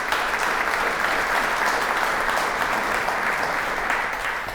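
Steady audience applause at a regional trail summit session honoring three trail partners, dense and sustained throughout, with no speech over it.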